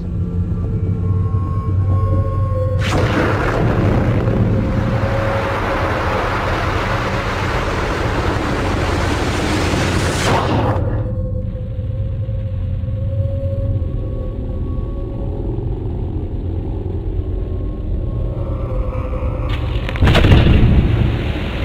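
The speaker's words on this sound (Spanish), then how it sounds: "Acá hay una recopilación de explosiones debajo del agua." Deep, heavy underwater blasts, each a sudden muffled thud swelling into a long rumbling roar, with a sharper burst near the end.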